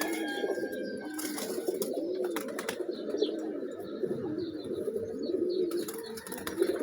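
Domestic pigeons coo steadily on an open rooftop in the morning, a continuous layered murmur of soft throaty calls from several nearby birds with occasional chirps, no voices.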